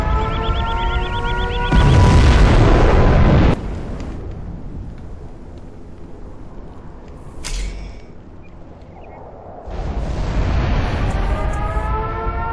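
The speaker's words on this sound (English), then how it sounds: "We have launched our nuclear missile." Nuclear missile launch in the real-time strategy game Command and Conquer Zero Hour, a loud roaring rumble and rising siren-like wail that swells, fades, then surges again, alone without voices.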